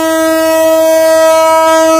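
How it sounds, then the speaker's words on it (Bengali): A train horn at Mirzapur railway station sounding one long, steady, loud blast from close by, with no talking. "সাইরেনটি দেখতে পাচ্ছেন, ট্রেনের সাইরেন। আর এই সাইরেন বাজিয়ে ট্রেন শব্দ করে।"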